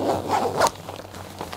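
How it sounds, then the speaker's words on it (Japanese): Underarm ventilation zipper on an Arc'teryx Beta Insulated mountaineering jacket, one quick close zip pull followed by a few fainter scratchy rustles of the fabric. "脇の下にダブルのジッパーでベンチレーションがあります"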